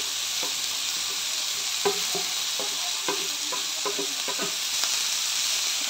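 Onion, ginger and garlic roasting in a pan, a steady broadband sizzle of frying with intermittent scraping and stirring knocks from a spoon, close and continuous, with no talking.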